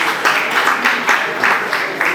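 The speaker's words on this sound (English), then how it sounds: "Another round of applause, please." A live audience at a reality TV show finale claps in a short burst, with rhythmic, fairly loud handclaps blending into a dense wash of applause.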